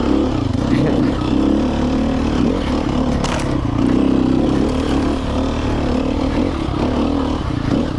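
A Sherco four-stroke trials motorcycle rides in first gear, its engine a steady, close, low drone that holds an even pitch for the whole stretch with little revving.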